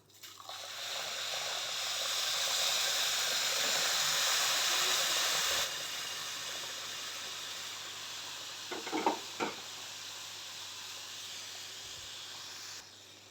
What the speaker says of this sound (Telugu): పాలు పోస్తున్నాను.